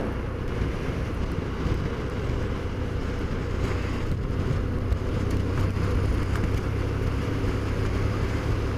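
Strong wind buffets and roars continuously, a steady low rumbling gust with no voices.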